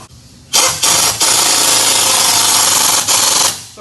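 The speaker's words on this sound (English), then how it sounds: "we're gonna go ahead and get our nut and tighten it up" A power tool, likely an impact wrench, runs loud and steady for about three seconds, tightening a nut on an IHC suspension helper bag kit for a 2007-2018 Chevy/GMC 1500 pickup, with brief bursts at start and end.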